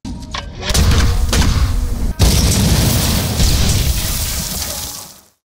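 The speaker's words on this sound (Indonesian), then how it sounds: "Serangan itu pun dibalas oleh pihak milisi dengan tembakan mortar yang membuat mereka panik." Mortar fire: heavy booming blasts hit in quick succession, with a sharp crack midway and a long roaring rumble that fades out.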